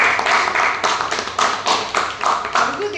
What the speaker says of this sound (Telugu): give a big round of applause to Siddharth Krishna